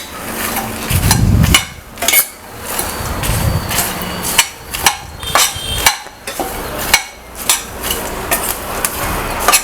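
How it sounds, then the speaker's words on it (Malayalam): Puffed rice and roasted lotus seeds are stirred together in a pan over low flame, giving repeated scraping clinks and rustling, loud and close, in an uneven rhythm. "അതുപോലെ നമ്മൾ മാറ്റി വെച്ചിരുന്ന റോസ്റ്റ് ചെയ്ത മക്കാന കൂടി ചേർത്ത് നന്നായിട്ട് മിക്സ് ചെയ്തെടുക്കാം."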